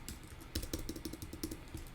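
Fast, steady typing on a computer keyboard, a dense run of soft close key clicks at low level with no voices.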